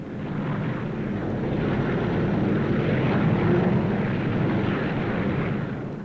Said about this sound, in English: Plane after plane.